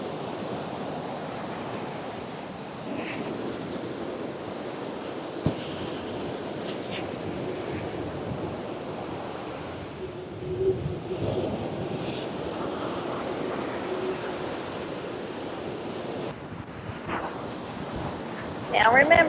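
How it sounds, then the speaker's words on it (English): Gusty wind buffets the microphone in a constant roar at Myrtle Beach, South Carolina, mixed with the broad wash of surf, with faint bumps and rustles along the way. "So it's very windy"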